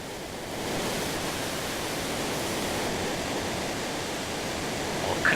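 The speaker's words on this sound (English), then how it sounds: "it couldn't be any worse than jumping down a waterfall." Waterfall in the video game Final Fantasy VI, a steady broad rushing roar of falling water that fades in and then holds at an even level, alone without talk.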